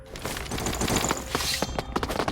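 Gunfire in the video game Bullet Angel, heard as a rapid, dense burst of shots with clattering impacts at close range, fairly loud throughout.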